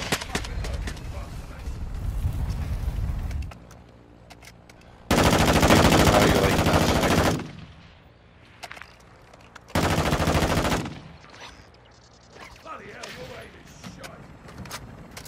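Gunfire in Call of Duty DMZ comes as two long, loud, sustained bursts of automatic fire separated by quieter stretches where someone talks over faint background shots.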